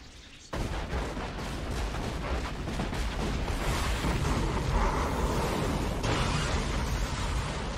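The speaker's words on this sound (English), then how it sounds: "I'm in love with Gurren Lagann's explosion effects, they're brilliant!" Explosion effects from the Gurren Lagann mecha anime: a sudden loud burst after a brief quiet moment, followed by a sustained roaring, crackling rumble with dense debris-like noise that continues steadily to the end.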